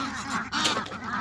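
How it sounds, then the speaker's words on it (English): Young ducks in a brooder honk and quack in a quick, close cluster of calls, loud and nasal, over a short burst. "Hey ducks. Incoming ducks."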